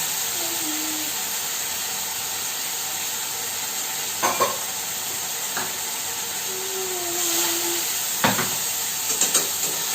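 Water splashes into a hot pan of coriander and cumin powder for a sardine curry, hissing in a steady, close sizzle that lasts throughout, with a few sharp utensil clinks and no talking.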